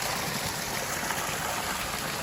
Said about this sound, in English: We've created a Pondless Waterfall in this very challenging location.